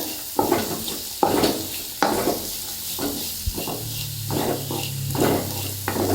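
Carrot and turmeric powder are stirred into semiya upma frying in a pan, with rhythmic spatula scrapes about once a second over a continuous sizzle.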